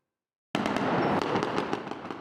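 Gunfire erupts during a military coup in Ouagadougou, Burkina Faso: a sudden, loud, sustained barrage of cracking shots that begins abruptly after silence and continues without pause.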